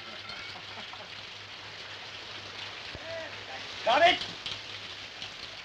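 Steady rain patters over an indoor scene with a constant low hum. A person speaks briefly near the end, and a short louder splash or rustle comes with the speech.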